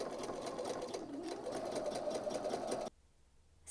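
A sewing machine runs steadily, stitching and back-stitching a seam on a McCall's 6751 tank top, with a close, even mechanical whir. It stops abruptly near the end.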